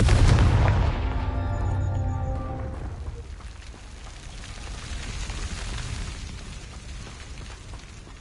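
A Confringo blasting spell goes off in the Hogwarts Legacy video game, with a loud, deep boom at the start that fades into a long rumbling, ringing tail.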